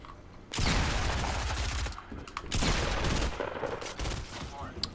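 Rapid bursts of gunfire in Fortnite Battle Royale, loud and close, come in two sustained volleys separated by a brief lull, with sharper single shots trailing off at the end.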